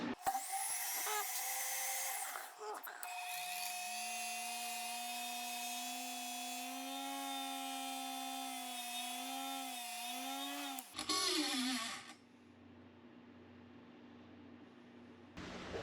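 Power buffing wheel spinning up and whining steadily as a custom ring made from red fire hose on black ceramic is polished, a close sustained hum with shifting pitch before spinning down and stopping.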